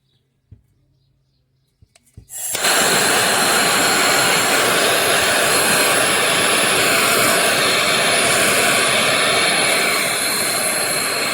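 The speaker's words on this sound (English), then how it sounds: "When I heat this area up here, let's see if it comes out." A heat torch warms the seized front strut area of a Ford Focus during a strut replacement, bursting into a loud, steady, close roaring hiss after about two seconds of near silence and holding to the end.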